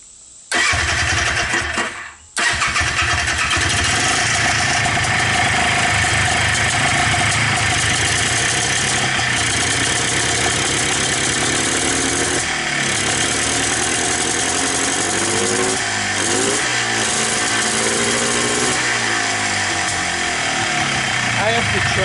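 A Polaris Xplorer 250 ATV fitted with a Yamaha Blaster carburetor runs loudly and steadily up close, with a brief cutout near the start before the engine drones on with slight rev changes.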